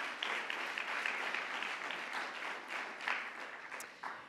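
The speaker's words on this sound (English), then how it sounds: "So a round of applause for all of those organizers." A lecture audience gives a round of applause for event organizers, a steady dense wash of many hands clapping for several seconds at moderate distance.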